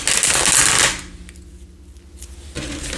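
Tarot cards are shuffled in a dense, papery riffle for about a second, then settle into a quieter stretch before another brief burst of card handling near the end.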